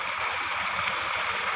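Rainwater pours into an old borewell, a steady dense rushing and gurgling of water falling without pause, close and loud, with no voices.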